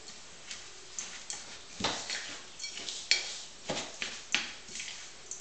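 Bird feeder mixture with raisins being stirred in a bowl, irregular soft scraping and clinking strokes close by at low volume, with no talking.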